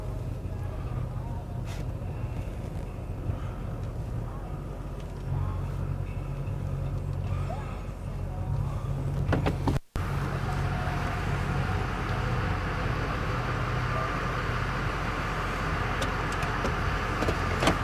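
A 2006 Chevy Silverado 2500 HD with a Duramax diesel rumbles steadily as it drives into a shop, a low engine drone that continues throughout with a brief cut midway.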